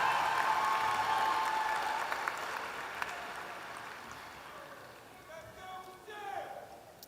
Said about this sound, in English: One more round of applause for the 2024 graduates of our online MBA Direct